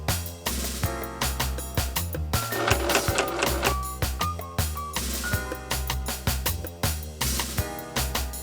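A sewing machine quilting puffer jacket fabric with down sewn between layers, running in a steady, rapid mechanical stitching rhythm with brief pauses and restarts, loud and close throughout.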